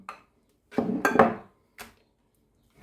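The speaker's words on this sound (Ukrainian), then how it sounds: "Перерізала всю картоплю, а тепер м'ясо переріжу." Knife strokes cutting chicken breast into pieces on a board for a potato and meat pie, heard as a few separate dull chopping knocks with short pauses between them, close and moderately loud, with no talking.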